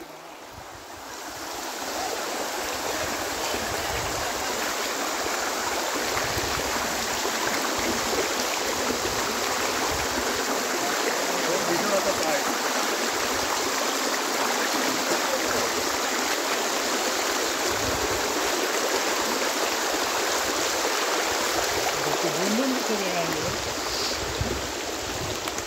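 A stream flowing near a village, a loud continuous rush of water heard close up for the whole stretch, steady and unbroken, with no talk.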